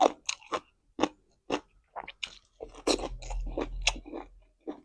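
Crunchy, sour pork tendon is chewed close to the microphone in a steady run of wet, crackling bites and munches, with no talking.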